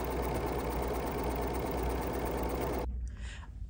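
An embroidery machine stitches a drawstring bag design in a rapid, even mechanical whir with fine repeating needle ticks, loud and close, then cuts off abruptly near the end.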